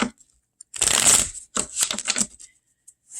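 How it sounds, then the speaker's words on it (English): A deck of tarot cards is shuffled up close in a few quick riffling bursts, crisp papery flutters separated by brief pauses in an otherwise quiet room. "let me get a good shuffle on these"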